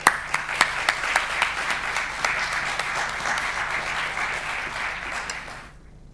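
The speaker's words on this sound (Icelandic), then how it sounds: "gefum henni bara gott klapp" Warm applause from a seated audience at a public health presentation meeting, opening with a few sharp individual claps before settling into steady, fairly close clapping that fades out at the end.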